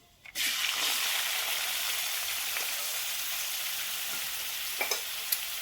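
Finely chopped onion goes into hot oil already crackling with cumin seeds and asafoetida, setting off a loud, continuous sizzle that holds steady, with a few brief pops and stirring sounds near the end.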